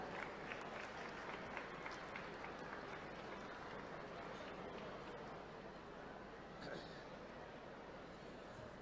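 An audience at a state-level school enrolment festival event in Bhopal applauds in a dense, sustained wash of clapping that continues with little change, while a voice talks over it.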